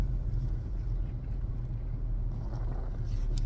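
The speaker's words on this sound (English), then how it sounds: "I am driving into the day" Car driving along, with a steady low engine and road rumble from inside the cabin and some wind buffeting on the microphone, heard alone without talk.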